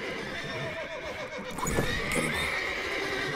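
Horses neigh and whinny in The Witcher 3: Wild Hunt, several agitated calls rising in the middle of the short stretch over faint hoof clip-clop, with a brief spoken line from a character.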